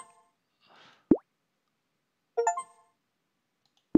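Desktop Beach Girls video game plays short achievement-unlock chimes: a few brief tonal pops and bright layered bleeps separated by silence, clear and close with no talking.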